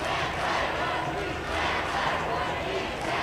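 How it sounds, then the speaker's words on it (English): A basketball crowd roaring inside the Minot State University Dome late in a tied fourth quarter of a state Class B boys game, a loud, sustained wall of cheering with an announcer talking over it. "now we got the crowd up here in the dome"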